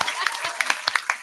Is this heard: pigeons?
no